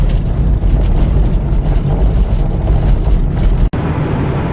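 A 2015 GMC Canyon pickup with a 6-speed manual driving on back roads, steady engine and road drone heard from the cabin with a brief dropout near the end.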